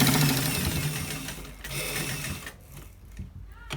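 A sewing machine runs a quarter-inch seam on a shawl collar garment, its needle chattering in a fast steady rhythm close by, slowing and thinning toward the end with a couple of brief pauses.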